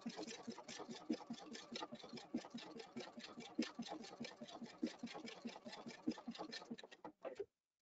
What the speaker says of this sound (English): And I hit my start stop button, and now I'm sewing from the top down without ever turning my fabric.